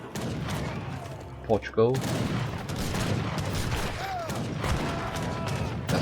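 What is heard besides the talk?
organ guns firing in a video game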